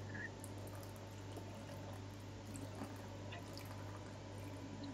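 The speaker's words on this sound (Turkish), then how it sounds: "Üstüne içme suyu döküyorum." Drinking water poured over mint leaves set two by two in an ice cube tray, a steady close trickle with faint drips over a constant low hum.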